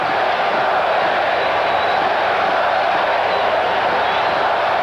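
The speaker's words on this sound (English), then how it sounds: "Crowd trying to will its ball club to get a move on" A dense, steady roar from a large stadium crowd at a 1988 World Series baseball game in Oakland, fans urging on the A's; the broad wash of noise holds level throughout with no distinct claps or chants standing out.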